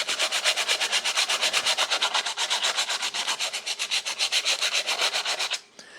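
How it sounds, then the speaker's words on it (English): Wood sanded by hand with a sheet of sandpaper: a steady run of quick, even back-and-forth rubbing strokes, close and fairly loud, stopping abruptly near the end with no talking. "you can easily take a piece of sandpaper"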